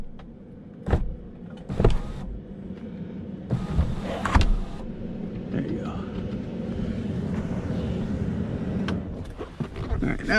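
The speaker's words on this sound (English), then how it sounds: "the first thing you want to do is open the sunroof, vent it if you can" The electric motor of a Ford Super Duty sunroof whirs as the glass tilts open to vent inside the cab, with a few sharp clicks and thumps around the steady motor hum.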